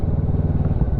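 A motorcycle engine idles or pulses nearby with a rapid, even throbbing beat, loud and alone for one second.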